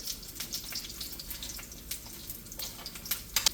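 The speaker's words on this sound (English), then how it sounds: "Your chile de árbol, you just want to let it fry up for 30 seconds at the max" Dried chile de árbol frying in hot oil in a pan for salsa roja, a steady close crackling sizzle with frequent small pops and bursts.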